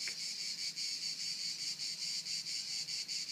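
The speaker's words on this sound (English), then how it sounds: "You can hear the cicadas." Cicadas buzz in a villa garden in Croix des Gardes, a steady, pulsing drone, their rhythmic trill repeating evenly, faint and continuous with no voices.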